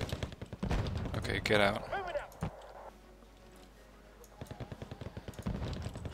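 Machine-gun and rifle fire crackles in the war strategy game Wargame Red Dragon, with loud rapid bursts at the start, a quieter lull, then renewed regular shots, while someone talks briefly over it.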